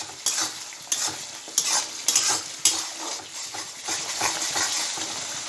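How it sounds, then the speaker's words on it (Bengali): Spinach and spice paste fry in oil in a pan, with a steady sizzle broken by regular, rhythmic scrapes of a spatula stirring the mixture, close and clear without speech. "দেখুন তো পালং থেকে তেল ছাড়ছে। মশলাটা ভালো করে ভাজা হয়ে গেছে।"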